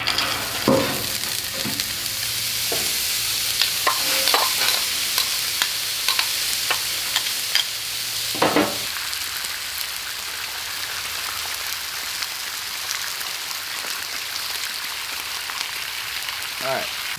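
Potatoes sizzle steadily on a 36-inch Sam's Club Member's Mark griddle, a dense constant hiss with occasional scraping clinks from a utensil near the start and faint background noise throughout.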